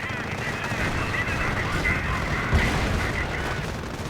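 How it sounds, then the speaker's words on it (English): Mortar rounds and gunfire roar through a World War II strategy game battle, a dense continuous rumble of combat with one brief louder thud partway through. "Mortar rounds hit the Pioneers."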